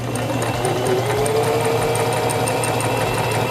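SINGER Simple 3232 sewing machine stitching forward along a fabric seam, a rapid even mechanical whirr with fast regular needle clatter, close and steady throughout.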